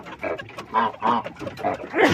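Several geese honk in agitated, overlapping bursts, loud and close, a rapid series of harsh calls.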